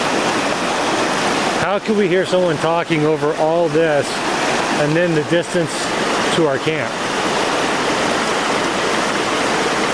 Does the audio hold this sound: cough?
no